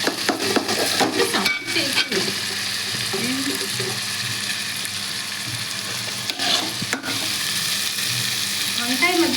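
Eggplant curry with tomato and onion frying in a pan as it is stirred, a dense continuous sizzle broken by repeated close scrapes and clinks of a spoon against the pan.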